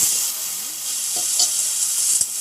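Grated coconut roasts in a pan for tomato chutney with a steady close sizzle, broken by a few soft stirring scrapes and taps.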